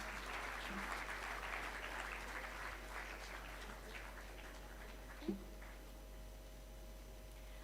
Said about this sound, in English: Can we please have a round of applause as they exit the room?